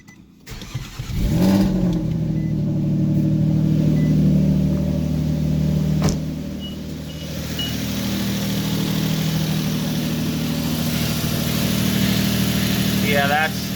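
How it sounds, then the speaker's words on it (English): A Nissan Altima engine cranks and catches, revs briefly, then settles into a steady close idle with a rough, throaty hum under occasional background voices. "I'm gonna go ahead and start the car"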